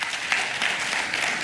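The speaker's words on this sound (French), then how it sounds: "je vois que les sénateurs et sénatrices applaudissent." Senators applaud President Alassane Ouattara's state of the nation address in the Senate, a dense, continuous wash of clapping from a large chamber audience.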